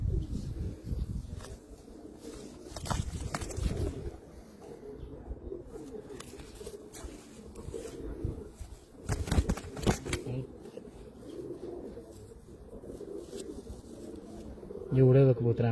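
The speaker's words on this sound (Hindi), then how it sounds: "ये उड़े हुए कबूतर हैं हमारे" Pigeons coo softly on a rooftop loft in Muscat, Oman, with rustling, flapping and people talking nearby throughout.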